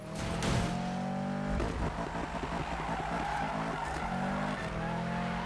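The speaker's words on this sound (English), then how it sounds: "See, drifting is a lot more fluent now." Car drifting in the Need for Speed racing game, tires skidding and squealing continuously over a steady engine drone with shifting engine tones, loud and close throughout.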